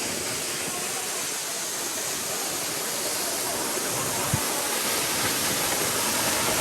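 Madhabkunda waterfall in Sylhet pours steadily beside rocky cliffs, a continuous broad rushing roar of falling water with no talking, holding level throughout.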